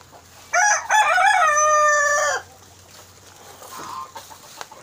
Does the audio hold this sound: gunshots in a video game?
no